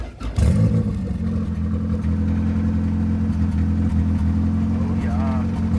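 A boosted Honda Accord with an F23 engine cranks and catches, then settles into a loud, steady idle hum that runs for several seconds with a faint rise near the end; no talking is heard.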